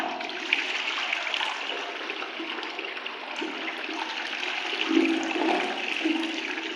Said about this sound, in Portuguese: Então bora dar descarga aqui.